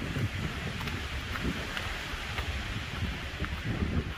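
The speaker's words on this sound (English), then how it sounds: "But nothing's gonna stop that wind." Wind on an open mountain top at Roan Mountain, a steady low rumbling buffet against the microphone with gusty swells throughout.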